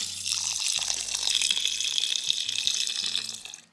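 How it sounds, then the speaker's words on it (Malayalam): Water poured steadily into a homemade pineapple wine mixture, a continuous splashing, gurgling stream heard up close for several seconds before it cuts off. "ഇനി നമ്മൾ വെള്ളം ഒഴിച്ചു കൊടുക്കുകയാണ്"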